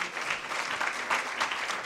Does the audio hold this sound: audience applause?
yes